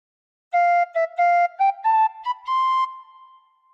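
A bright tin whistle plays a short melody of separate notes stepping upward, ending on a held tone that fades out, with no other sound.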